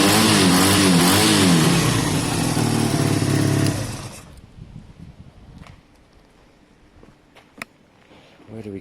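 A Honda CB250 motorcycle engine runs loudly with revving pitch changes, then cuts off, leaving quiet background with faint clicks and knocks.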